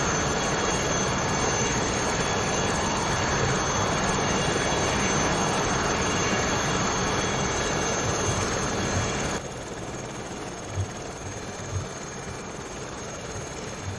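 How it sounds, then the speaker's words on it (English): Lama SA315B helicopter in flight in Microsoft Flight Simulator 2020, a steady loud rotor and turbine drone with a slight drop in level partway through, no voices. "Just trying to keep the helicopter straight and level as much as I can."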